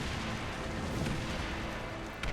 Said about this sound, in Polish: Te wybuchy.